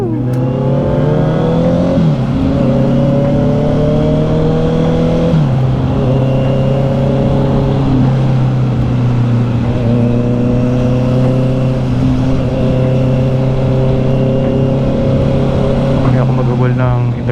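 A Honda CB650R motorcycle engine drones steadily up close, pitch stepping up through gear changes as it accelerates, with a voice faintly underneath.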